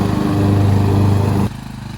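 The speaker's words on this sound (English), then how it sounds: "we were gifted a ride-on mower" A ride-on lawn mower engine runs close by with a rough, throbbing chug, then drops suddenly to a quieter, lower idle near the end.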